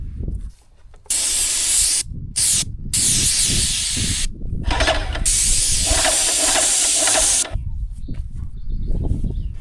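Paint sprayer spraying paint onto a cottage wall, loud continuous hissing bursts with short pauses between passes and a low motor hum underneath, no speech.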